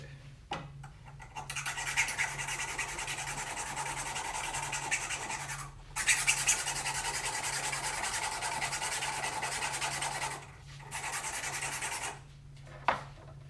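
A file rasps against the tip of a PVC blowgun dart in long, steady, close strokes, broken by a few short pauses, with a low hum underneath.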